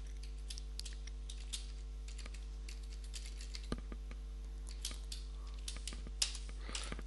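Keys tap on a computer keyboard in quick, irregular bursts of light clicks, close but quiet, over a low steady hum, with no talking.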